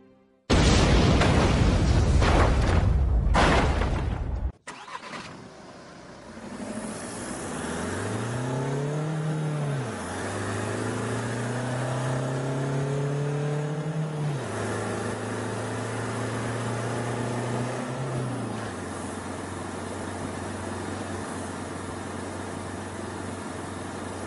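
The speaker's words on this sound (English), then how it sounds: "With its advanced 2-litre common rail diesel engine, the new Scirocco TDI is quiet enough for any occasion." A VW Scirocco TDI with a 2-litre common rail diesel engine: a few seconds of loud, explosive bursts, then a steady engine drone that rises in pitch, holds, shifts and settles, close and moderately loud.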